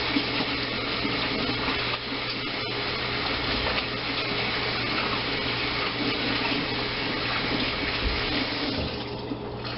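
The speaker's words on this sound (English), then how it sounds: "wash our hands off." Tap water runs steadily into a sink during handwashing in a kitchen, a continuous broadband hiss and splash that stays even at moderate loudness throughout.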